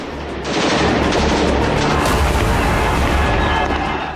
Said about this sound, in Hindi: दोनों गुट के लड़ाके एक दूसरे पर किस तरह से अंधाधुंध गोलियां बरसा रहे हैं